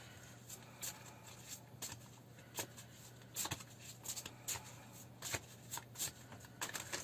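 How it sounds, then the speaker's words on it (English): Tarot cards shuffled close up, with crisp slaps and riffles in uneven bursts over a quiet background hum, no voices. "So I'll just get these cards shuffled and see who appears"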